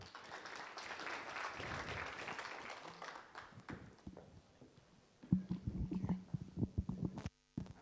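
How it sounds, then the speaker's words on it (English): An audience at a Nairobi tech week event claps as a speaker walks up. The clapping is fairly faint and steady for several seconds, then gives way to scattered knocks, shuffling and murmur. "So clap for Waziri as he comes."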